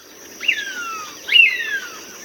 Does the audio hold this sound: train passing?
no